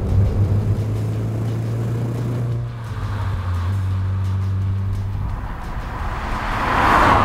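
First-series Audi TT on the move: a steady engine drone and road rumble heard from inside, dipping once in pitch as the car changes gear, then a rising whoosh, with no talking.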